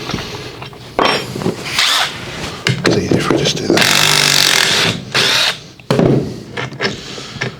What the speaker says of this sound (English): The power tools do make it easy.